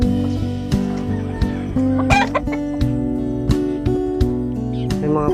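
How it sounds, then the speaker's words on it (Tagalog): Chickens cluck loudly and repeatedly up close, sharp calls popping over a constant tonal background hum. "ito malaki na yung mga manok namin"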